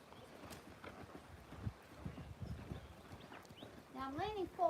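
A horse cantering on a windy day, rhythmic hoofbeats under a rider's talk, with wind noise and a louder snort or whinny near the end.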